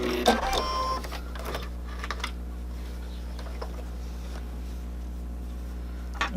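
Sewing machine stitching a mast with a filter pocket, a close mechanical whir with a steady low hum and some clicking and ticking, loudest at the start and then fading to a quieter background drone.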